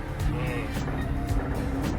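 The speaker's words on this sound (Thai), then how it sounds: "เดี๋ยวลองกดตัวเทสปั๊มกันนะครับ" Komatsu 520 wheel loader running its hydraulic pump test, a steady droning engine and pump rumble with continuous low hum and no pauses.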